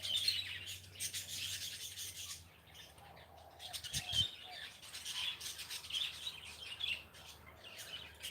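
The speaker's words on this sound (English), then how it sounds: "budgies are in the back" Budgies chirp in the background with soft, scattered high tweets over several seconds, mixed with faint rustling and a brief low thump, all quiet and some distance away.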